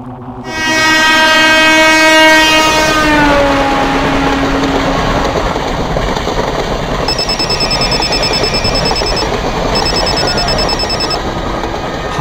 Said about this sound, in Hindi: ट्रेन में हूँ अब्बू, घर आ रहा हूँ।